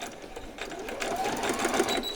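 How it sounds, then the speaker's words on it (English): A sewing machine stitches fabric for a homemade pet bed, running steadily and close up with a continuous mechanical whir, no talk over it. "So I shall go to the sewing machine and do that."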